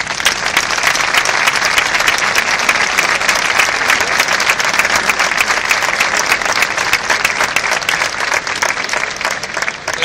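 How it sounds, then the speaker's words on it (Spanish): Outdoor band concert in the Plaza de San Francisco, a large audience applauding in a loud, dense, unbroken roar of clapping that holds evenly for the full duration. "la dirección del maestro Manuel Hidalgo, para quien le pido a ustedes un aplauso, por favor."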